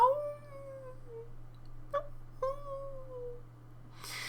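A human voice imitates the distant howling of wolves in a horror adventure game, giving a few long, quiet, drawn-out wavering howls separated by pauses, over a steady low hum.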